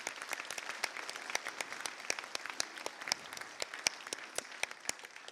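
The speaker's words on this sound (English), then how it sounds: "So a round of applause for everybody in the community." Scattered, fairly faint applause from a modest audience at a mayoral debate in Burlington, individual claps distinct and steady throughout with little talk.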